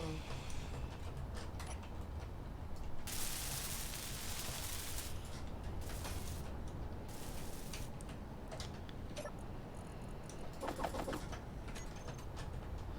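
A grinder cutting apart a tank in Space Engineers, heard as several harsh, hissing bursts of grinding noise that start and stop over a steady busy background, with a voice briefly talking.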